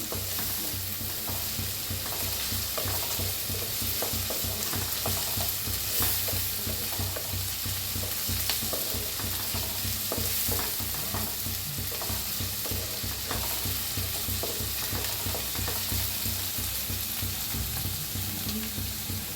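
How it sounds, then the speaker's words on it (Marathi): Onion and tomato roast in a pan for a green-masala egg curry, giving a steady, loud sizzle and crackle of frying with no one talking. "आता चांगलं भाजायला लागलेलं आहे."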